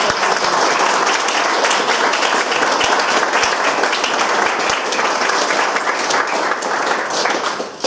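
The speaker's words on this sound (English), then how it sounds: "Will you please give Peter another big round of applause?" After a talk on influence and persuasion, an audience applauds Peter with sustained, dense clapping at an even level for several seconds, with faint voices mixed in.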